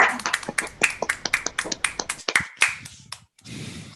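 Hand claps after a conference talk, sounded through open microphones on an online colloquium call: a handful of close, sharp claps in a quick uneven rhythm that thin out after about three seconds, followed by a short burst of room noise.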